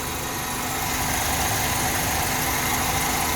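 A 1977 Toyota Chinook's Toyota 20R four-cylinder engine idles around 800 to 900 rpm, a steady loud close drone with even mechanical hum and no speech.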